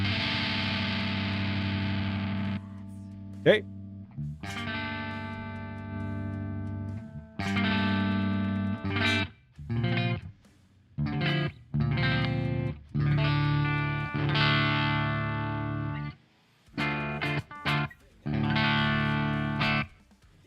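Electric guitar played through an amp simulator on a clean tone: strummed chords and single notes ring out in bursts with short gaps between phrases, loud and close, with a brief spoken word near the start.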